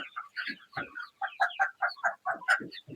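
Sonali chickens, 47 days old, cluck on a poultry farm. The clucks come as a dense, continuous run of short calls from several birds nearby, with no talk.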